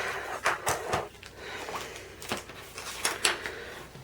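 A spoon set down on a crafting table while a Thanksgiving card is being made, giving a few light clinks and taps spaced out over a few seconds, close and fairly quiet.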